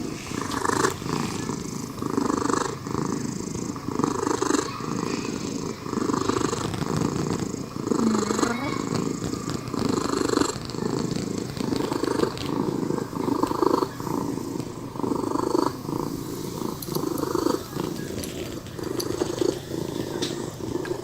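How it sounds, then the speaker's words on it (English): A cat purrs loudly and continuously right at the microphone, a deep rumbling pulse that stays strong and steady throughout with no talk. "He purred like a Harley fucking Davidson."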